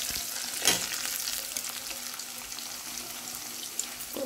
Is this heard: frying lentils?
yes